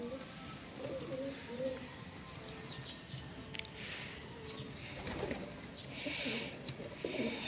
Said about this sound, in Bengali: তো এটা বারো নম্বর কবুতর